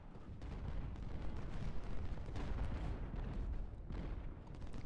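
Distant artillery fire in the Civil War strategy game Ultimate General, a steady rumbling wash of overlapping booms and crackling gunfire with no clear pauses, fairly quiet throughout.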